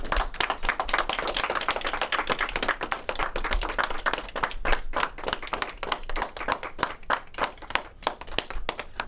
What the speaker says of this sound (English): I think it's time for a round of applause,